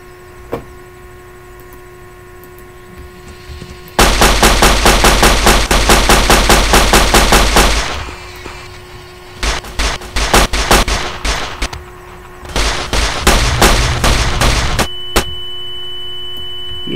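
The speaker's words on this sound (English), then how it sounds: "K9000 Cyberdog gun." The K9000 Cyberdog gun from a Gmod Fallout 3 weapons mod fires in rapid automatic bursts: one long sustained volley, then shorter choppy bursts, loud and close over a steady electronic hum.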